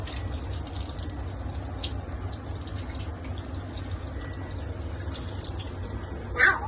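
Fresh drinking water running steadily from a kitchen tap while fruit and vegetables are washed, a constant splashing flow with a brief louder gush near the end.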